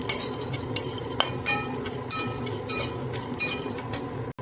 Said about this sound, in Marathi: आता आपण हे सगळे मसाले भाजून घेऊया.